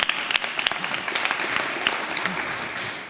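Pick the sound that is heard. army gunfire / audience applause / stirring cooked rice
audience applause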